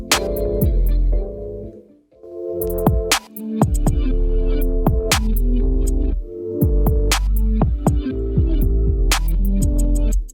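A hip-hop beat mixed in FL Studio with stock plugins, with deep bass, crisp hi-hats and punchy drums over melodic chords, steady and loud, with a brief break partway through, no voices.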